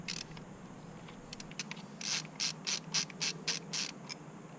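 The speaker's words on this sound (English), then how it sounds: "remove the lower trim piece by unscrewing the 2 screws holding it in" Small screws being backed out of the lower plastic trim on a Ford Mustang steering wheel, a run of quick ratcheting clicks from a hand tool in short bursts, close up and fairly quiet, with no talking.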